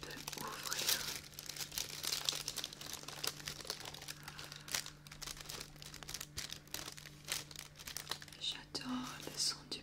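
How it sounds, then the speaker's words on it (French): Tissue paper rustling and crinkling close up as a product box is unpacked in a quiet room, a continuous soft crackle with occasional tearing, under a faint low hum and some soft whispered speech. "J'adore le son du papier."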